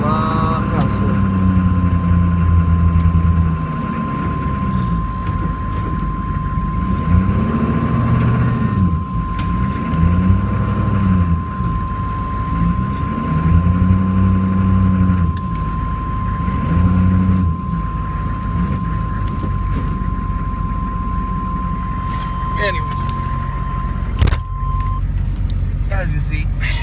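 A 1996 Chevrolet Cheyenne K3500 with a 6.5L diesel runs steadily after a cold start in freezing weather, its engine droning with rising and falling revs while someone talks over it nearby.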